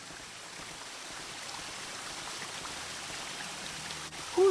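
Steady rushing water of a waterfall in the video game Ankh 2, a continuous broadband wash with no speech, with a short tonal blip near the end.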